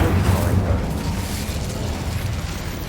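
An Incendio fire spell is cast in Hogwarts Legacy, giving a loud, sustained whooshing roar of flame that stays dense and steady for about three seconds.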